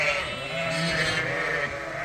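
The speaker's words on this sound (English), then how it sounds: "The Suffolks are eating their grain here." Suffolk lambs in a barn bleating loudly and close, one sustained wavering cry filling the moment with no talking.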